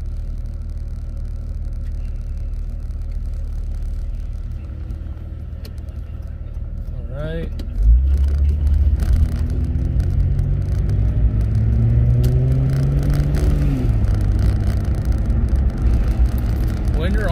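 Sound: Jeep Grand Cherokee WJ with Flowmaster 40 series exhaust, freeway

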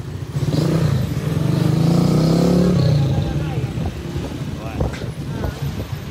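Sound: motorcycle engines revving in a street exhibition

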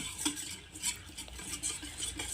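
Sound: stirring batter in a bowl

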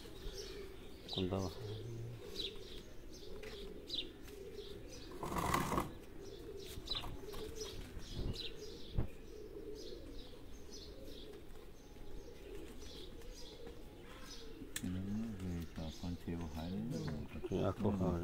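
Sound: pigeons cooing and flapping wings in a loft

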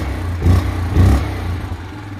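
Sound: quad ATV engine running and revving

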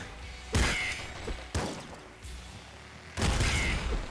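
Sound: explosions in a video game

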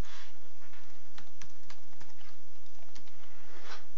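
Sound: typing a password on a computer keyboard

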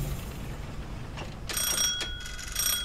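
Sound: ringing bell sound in the video game Haven Moon

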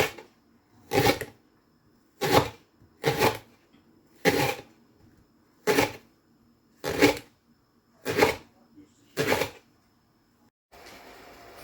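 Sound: chopping duck into small pieces

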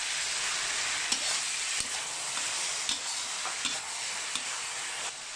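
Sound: stir-frying marinated pork with ginger in a pan

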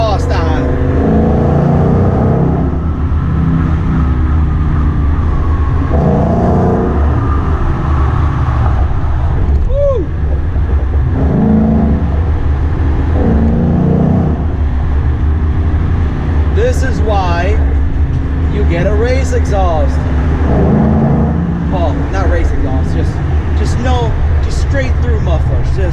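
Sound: 2016 Ford Mustang GT engine and exhaust driving

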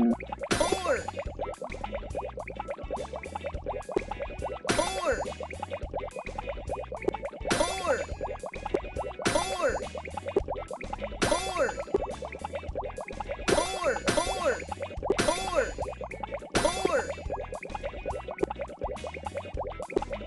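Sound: bubbles popping in a kids' math app game

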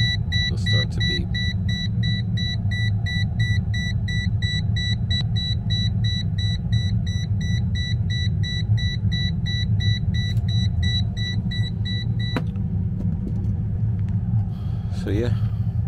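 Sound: Toptes PT-520B+ combustion gas leak detector beeping

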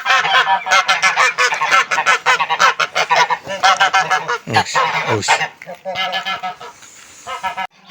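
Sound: goose honking

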